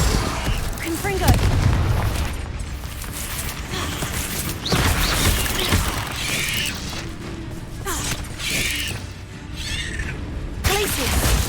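Confringo blasting spell going off in Hogwarts Legacy, heard as loud booming bursts layered over a constant wash of game noise, with several heavy impacts spaced through the stretch.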